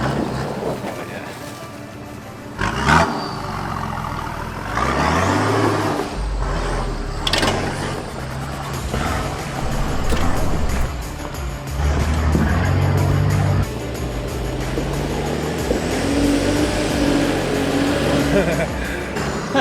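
Nissan 4x4 with a factory limited-slip differential grinding up a steep off-road track, engine labouring and revving loudly with clunks and bumps throughout, while people talk over it.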